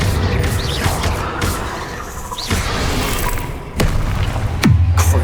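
Spells such as Bombarda, Expelliarmus, Confringo and Accio fire in Hogwarts Legacy: a string of loud blasts, thuds and whooshing squeals, one after another, over a constant rumbling game backdrop.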